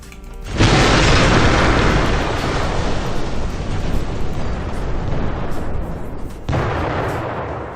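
Comet impact explosion in the City Smash destruction game: a loud, deep, roaring blast that erupts suddenly and rumbles on for several seconds, then dips briefly and rolls on again.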